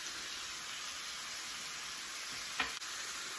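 Chicken frying in a pan with a spoonful of bacon fat, giving a steady, even sizzle throughout, with one brief clink partway through.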